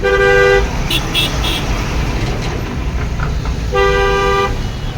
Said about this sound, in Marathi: जरा हॉर्न मारा